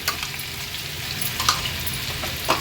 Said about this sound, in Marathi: तेल गरम झालं की हा जो आपण क्रश बनवलेला हा सर्वात आधी आपण तेलावर घालणार आहोत